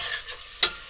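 Onion frying in a pan for a Fijian freshwater mussels curry, a continuous close sizzle with one sharp scrape of a utensil midway.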